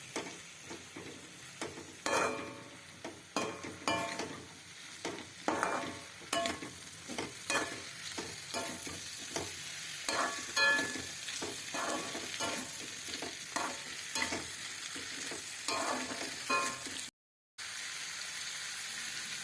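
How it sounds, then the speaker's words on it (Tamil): Ivy gourd masala curry sizzles and fries in a pan on high heat while a utensil stirs and scrapes at an irregular pace, close up. Near the end the sound cuts out briefly. "அடுப்பு ஹையில் வச்சுருந்து நல்லா கலரி கொடுக்கணும்"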